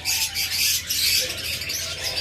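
Pet turquoise forpus parrotlets, a pair, keep up a rapid stream of thin, high chirps and tweets, dense and unbroken at close range with no voices over them.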